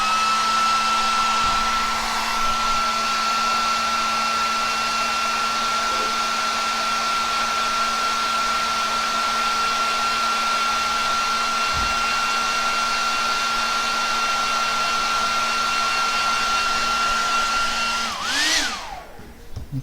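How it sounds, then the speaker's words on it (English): A hair dryer blows steadily while freshly painted miniatures dry, a loud continuous whine and whoosh running unbroken for nearly twenty seconds before it cuts off with a short tail at the end. "Run my air dryer for a second,"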